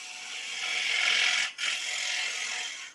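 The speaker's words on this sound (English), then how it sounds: "Now I'll give my tenon its final shape. I like to use just a 3/8 inch detail gouge for that" Wood lathe turning a tenon with a 3/8 inch detail gouge: a steady, close hiss and rasp of the cut that breaks off briefly partway through, then carries on. No one speaks.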